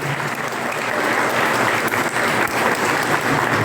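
An audience gives loud, dense, sustained applause at a book launch in Boa Viagem, the clapping continuous and close with no speech over it.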